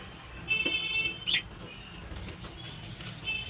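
A small pigeon in a home loft flaps its wings in a few quick, soft bursts close by, with faint bird chirps and quiet room noise around them.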